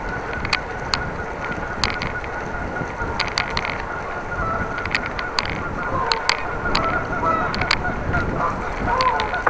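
Repeated sharp honking calls of geese ring out over a steady background rush, several birds calling irregularly, some louder and nearer than others.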